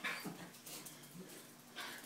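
Puppy whimpering indoors in short, soft whines near the start and again toward the end, with quiet room sound between them.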